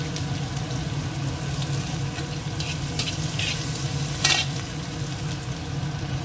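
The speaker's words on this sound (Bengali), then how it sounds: "এই তেলের মধ্যে দিয়ে দেবো প্রথমে হচ্ছে রসুন কুচি, দিয়ে দেবো একটুখানি পেঁয়াজ কুচানো" Chopped garlic and onion fry in hot oil, a close steady sizzle with bursts of sharper spattering and a brief louder crackle, heard alone without talk.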